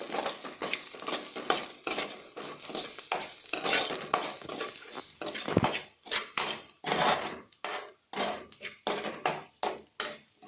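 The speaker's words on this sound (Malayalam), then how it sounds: "അത് നമുക്ക് നല്ലോണം ഒന്ന് ഇളക്കി കൊടുക്കാം" Two packets of masala for Maggi noodles are stirred in a pan: quick, rhythmic scraping strokes of a utensil against metal, close and fairly loud, with a faint sizzle underneath and no talking.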